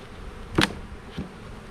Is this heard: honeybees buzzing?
yes